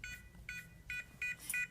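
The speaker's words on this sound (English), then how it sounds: "So you enter the code, it goes beep beep, and it allows you to open the door." Several short, quiet electronic beeps from a Liberty TopLit keypad lock confirming a correct code, in quick succession, heard up close against a faint background hum.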